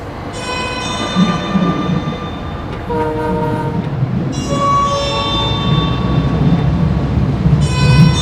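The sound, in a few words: Heathrow Express train travelling to Paddington Station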